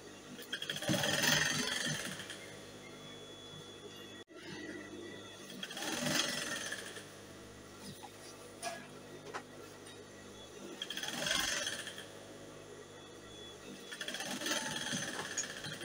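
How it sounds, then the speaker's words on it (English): A sewing machine stitching elastic onto a batwing dress top runs in repeated bursts of whirring, with quieter pauses between runs, close by but soft. "So I finished stitching."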